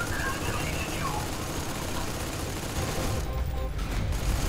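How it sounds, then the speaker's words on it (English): Assault rifle fire in the shooter game Raiders of the Broken Planet, a dense, steady burst of rapid shots blending into a continuous loud din for several seconds, with other game noise layered underneath. "My assault rifle only has 5 shots in it."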